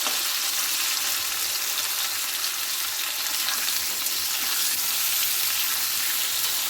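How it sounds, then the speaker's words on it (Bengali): Taro and potato frying in hilsa fish oil, a steady loud sizzle with continuous hiss and bubbling, close up and with no talking throughout. "এই ইলিশ মাছের তেলেই আমি ভেজে নিচ্ছি কচু আর আলুটা।"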